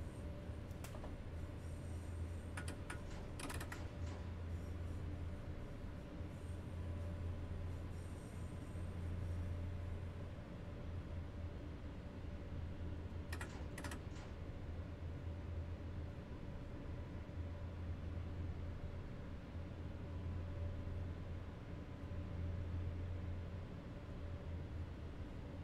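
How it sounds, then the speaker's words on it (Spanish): Trains rumble past continuously in the railway simulator game SimRail, a steady low rolling drone with a few sharp clanks and squeals, no voices over it. "Bueno, ya no paran de venirme trenes por aquí."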